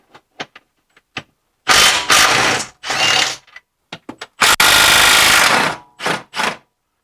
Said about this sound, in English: We're going to unbolt the subframe.